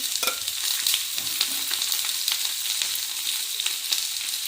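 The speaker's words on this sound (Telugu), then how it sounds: "నూనె వేడైన తర్వాత ఉల్లిపాయలు వేసుకొని కొద్దిగా పసుపు వేసి" Onions frying in hot oil with a pinch of turmeric, a steady close sizzle with scattered spatters and a few stirring scrapes running the whole way through, no voices.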